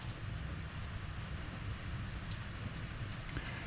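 Steady, dense monsoon rain falls throughout, a constant hiss of drops hitting surfaces with no voices.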